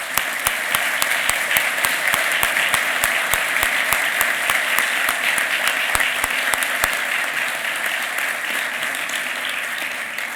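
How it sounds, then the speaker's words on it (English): A large audience at the 2016 Arizona-Mexico Commission Summit gives a big round of applause, dense, even clapping with sharp individual claps standing out, sustained for about ten seconds before easing slightly. "So please help me on a big round of applause for them."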